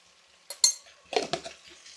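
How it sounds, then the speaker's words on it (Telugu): Salt and chilli powder get stirred into frying food in a pan, a few sharp metallic clinks and scrapes of a spoon against the pan in short bursts over a quiet background. "ఇప్పుడు ఒకసారి కలుపుకుందాం."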